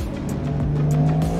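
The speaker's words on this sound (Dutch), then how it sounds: "Dan gaan we weer remmen ABS in de bochten." A Porsche braking hard with ABS through a corner during advanced driver training, with a loud steady engine drone, a faint tire squeal and pulsing tire noise, heard close from inside the car.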